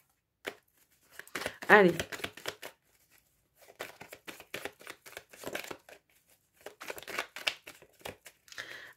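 Tarot cards being shuffled by hand, quiet riffling and crinkly paper bursts in short bouts separated by pauses, close and soft, with a brief spoken word partway through.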